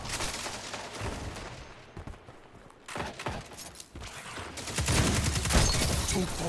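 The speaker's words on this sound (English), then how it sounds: "I just killed 2 people with 1 shotgun bullet" Shotgun blasts and combat effects from the video game Destiny, heavy booming shots clustered near the middle and a loud sustained burst of firing and impacts toward the end, no talking.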